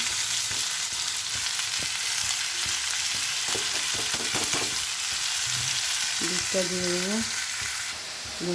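Beetroot and potato pieces fry in a pan with a dense, steady sizzle, broken by scattered clinks and scrapes of stirring. The sound is close and fairly loud, with no voice over it.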